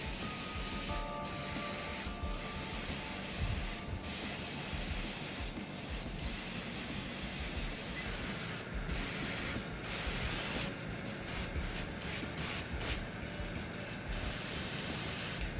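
An airbrush sprays paint onto Warhammer miniatures using fluorescent paints, giving a continuous steady hiss with brief pauses and bursts where the trigger is released and pressed again.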